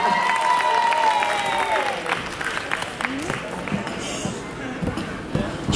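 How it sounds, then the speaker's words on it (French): Audience applauding at a baby fair stage show, a dense clatter of clapping that tapers gradually, heard over a loud amplified voice. "Et on lui fait un tonnerre d'applaudissements à Alana."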